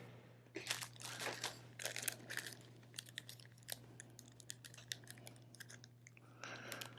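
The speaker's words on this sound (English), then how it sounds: "Then we take a plastic bag." A plastic sandwich bag crinkles and rustles in close, irregular bursts, handled during tree grafting with a low steady hum underneath.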